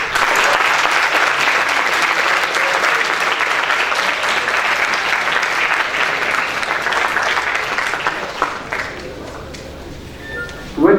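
A campus audience at BITS Pilani gives a big round of applause, loud dense clapping sustained for most of the stretch before fading into scattered claps and room noise.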